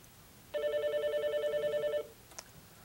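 An Alcatel-Lucent 8028 premium deskphone rings with an incoming call, one electronic burst of rapid trilling warble lasting about a second and a half, close and clear, followed by a faint click.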